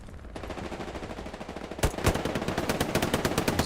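Sustained automatic gunfire from a firefight in the WWII shooter Hell Let Loose on the Hurtgen Siegfried Line map. Rapid bursts of shots crackle at an even pace, and a closer, louder stream of fire takes over halfway through.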